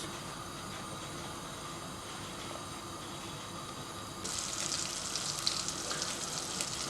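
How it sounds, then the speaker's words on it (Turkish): Butter and a spoonful of cooking oil melt and heat in a pan with a soft, steady sizzle that grows louder and brighter partway through, heard close and without talk. "Bir yemek kaşığı kadar da sıvı yağ koyuyoruz. Yağımızın erimesini bekliyoruz."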